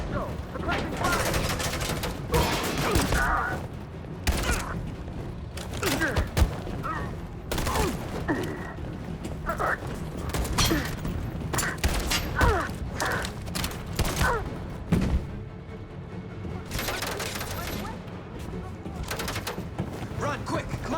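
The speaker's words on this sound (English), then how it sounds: "Suppressing fire!" Bursts of suppressing gunfire in Detroit: Become Human, dense irregular shots running throughout amid loud game action, with voices shouting over the shooting.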